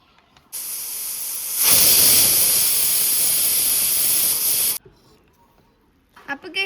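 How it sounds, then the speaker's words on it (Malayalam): A pressure cooker on the stove, cooking rice with third coconut milk, dry ginger and cumin, lets out a loud, sustained steam whistle. It swells into a harsh hiss for about four seconds, then cuts off to near silence. "എൻ്റെ കുക്കറിനകത്ത് ഇപ്പോൾ 2 വിസിൽ അടിച്ചാൽ മതി."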